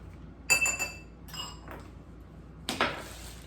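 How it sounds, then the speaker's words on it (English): Fork or whisk clinking against a bowl while beating an egg with spice, a few quick metallic taps in short bursts, then a single louder clink, fairly close with no talking. "So we're gonna beat this egg with the spice."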